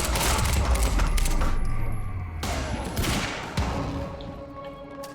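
SMG gunfire in Quantum Break, a dense, loud stretch of rapid shots and impacts that fades into scattered thuds, with a brief spoken interjection.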